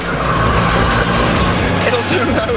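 Bugatti Veyron engine under heavy throttle on a handling test road, a loud sustained roar with a hint of tyre squeal, steady and close throughout.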